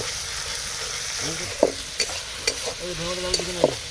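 Tomatoes and green chillies frying in a curry pan for a village-style country chicken curry, a steady sizzle under repeated stirring scrapes and a few sharp utensil knocks, close by with no talking.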